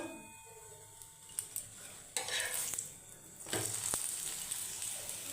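A carrot paratha sizzles in oil in a pan at home, with soft hissing, a few scraping stirs and light clinks of utensils, and louder bursts of frying near the middle and end.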